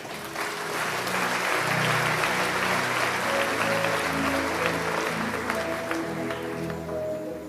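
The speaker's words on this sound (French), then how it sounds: "je peux vous demander d'applaudir vous-même pour membres du groupe" An audience claps in a church gathering, a dense sustained round of applause that swells quickly and holds steady. Faint voices come through underneath.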